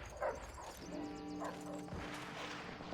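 Attack dogs barking in the Call of Duty: World at War team deathmatch, a few sharp yips and barks over a dense, steady game ambience with a low humming drone.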